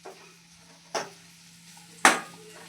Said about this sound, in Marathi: तर आपल्याला आता याला छान प्रकारे असं हलवून घ्यायचं आहे